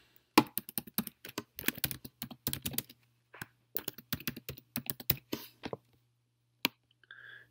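Fingers typing on a computer keyboard, with irregular bursts of close, crisp key clicks and short pauses between words, over a faint steady hum; no one talks.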